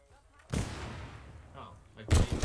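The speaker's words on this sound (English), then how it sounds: "Oh, I grenaded myself." Two heavy blasts in the ArmA 3 military game, a grenade going off close by with a deep boom and a rumbling tail, then a second loud burst near the end.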